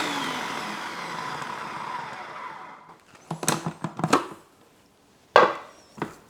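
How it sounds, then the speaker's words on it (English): A food processor crushes nuts for a caramel slice, whirring in a steady grinding run for about three seconds before cutting off, followed by several short sharp pulses and knocks. "I'm going to have to swap to my food processor."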